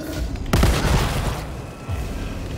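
Gunfire in The Evil Within 2 on PS4, a sharp heavy blast that rings out and decays, followed by a second, softer report; no talking.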